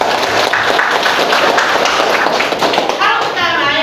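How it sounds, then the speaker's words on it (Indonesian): A classroom of pupils claps for a classmate in a religious education lesson, loud and continuous dense hand clapping with some children's voices mixed in. "Tepuk tangan untuk Valentino"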